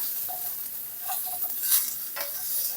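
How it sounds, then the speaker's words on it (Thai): Pork fat sizzling and being stirred in a new wok, with a steady close hiss broken by scraping stir strokes, no voices. "เอาเปลวหมูนี่ค่ะพี่น้องใส่ลงไปนะคะ แบบนี้เลยค่ะ นะคะ แล้วก็จะรวนนะคะ รวนให้น้ำมันออกนิดนึงค่ะ"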